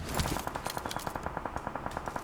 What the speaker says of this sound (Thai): มีเสียงปืนด้านซ้าย